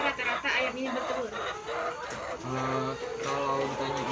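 Laying hens cluck continuously and fairly close, with overlapping calls and a few rising squawks, while a person speaks over them.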